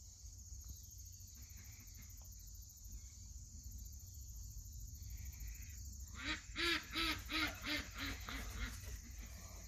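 A run of several quacks from ducks on a farm in the morning sounds a few seconds in, over a steady low hum and faint background chirping.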